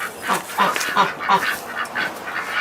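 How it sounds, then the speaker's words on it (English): Ducks on a farm in cold, freezing weather quack in a steady run of repeated calls, fairly loud and close, with no talking over them. "These ducks don't particularly seem to care."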